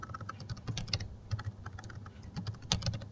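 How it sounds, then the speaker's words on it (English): Rapid, irregular keystrokes on a computer keyboard while logging into an account, clicking in close, quick bursts with brief pauses and no talking. "Sorry, I can't type today."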